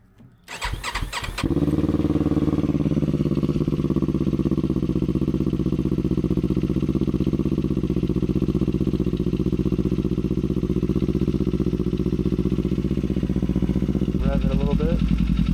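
A Kawasaki Z500 SE fitted with a Leo Vince Corsa EVO exhaust, dB killer removed, cranks and fires up, then settles into a loud, steady, throaty idle, with a short blip at the end.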